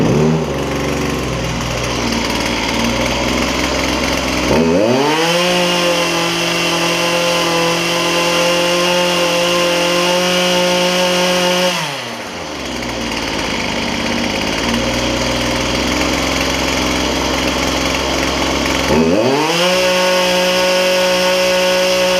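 A Poulan Pro PP333 weedeater brush cutter, just fitted with a new carburetor kit, runs loud and close. Its small two-stroke engine revs up and drops back to idle several times in repeated cycles.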